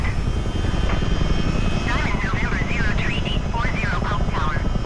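Heavy, steady rotor and engine roar from a US Army Chinook helicopter in Microsoft Flight Simulator VR, lifting a Black Hawk as a sling load during a North Carolina exercise. It stays loud and close throughout, with a voice talking over it.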